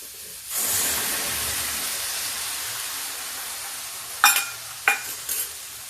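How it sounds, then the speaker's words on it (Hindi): Spice masala drops into a pan of frying cabbage and peas and bursts into a loud, steady hissing sizzle, then a few sharp scraping stirs near the end, close by with no talking. "और ये जो मैंने मसाला बना के रखा है इसको मैं डाल दूँगी"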